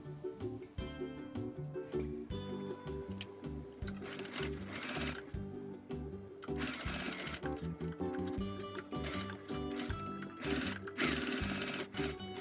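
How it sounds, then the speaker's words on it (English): A sewing machine stitches a ribbon hair accessory in bursts of rapid mechanical clatter, with brief pauses between runs, close and clear. "Leave a space and sew around the edge."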